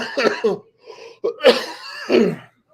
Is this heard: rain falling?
no